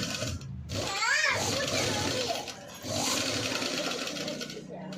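A sewing machine hums through continuous stitching on blouse patchwork along a buckram edge, with children's voices chattering faintly in the background.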